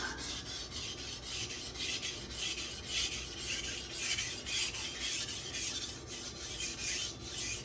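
A Nakiri knife made of BD1 steel scraping steadily back and forth across a hard, scratchy Takarazukushi whetstone, a close, continuous gritty rasp with regular stroke rhythm and no talking.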